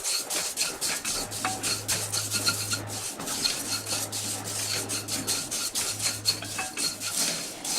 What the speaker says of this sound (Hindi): पैन को गरम करेंगे और इसमें हम लाई को थोड़ा सा भून लेंगे